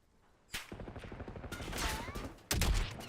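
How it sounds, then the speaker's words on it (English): Sharp gunshots crack in Call of Duty Warzone's Verdansk: one at the start, a burst of overlapping shots in the middle, and another loud report near the end, over a busy, noisy game backdrop with a whistling streak. "I'm also getting sniped at."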